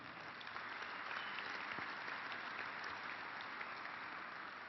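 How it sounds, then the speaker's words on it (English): Sustained applause from a rally crowd of Illinois gun owners at a lobby day event, dense steady clapping at a distance, fairly quiet and continuous without any speech. "Give yourselves a round of applause."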